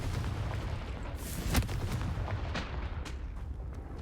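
Confringo explosive spell in Hogwarts Legacy on hard mode, a sharp blast near the middle among several fainter cracks and thuds over a low rumbling backdrop, fairly quiet overall.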